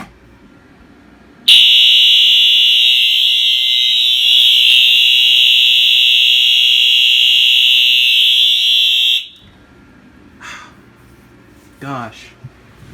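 A fire alarm blares in California code as one continuous, piercing tone with no pauses, very loud and close for about eight seconds before cutting off abruptly, followed by brief quieter noises.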